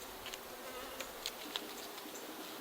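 Honeybees hum steadily around a busy horizontal or vertical hive, a soft continuous drone with occasional nearer passes of single bees, faint and without talk.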